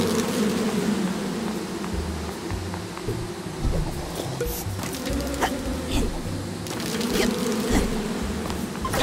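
A swarm of big bees in the video game Psychonauts 2 drones in a loud, continuous buzz, layered and close, with faint clicks and ticks scattered through it.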